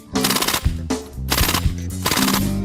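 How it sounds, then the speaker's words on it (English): An Ingram MAC-10 submachine gun fitted with a silencer fires three rapid bursts of muffled automatic shots, loud and close, with short gaps between them. "The hero's girlfriend is armed with an Ingram MAC-10 submachine gun with a silencer."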